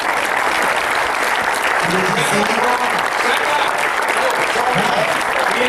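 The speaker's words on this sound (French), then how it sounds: "je voudrais qu'on l'applaudisse" Loud, continuous applause from the audience in a Cannes 2011 festival cinema hall, a dense roar of clapping that fills the room while someone briefly speaks over it.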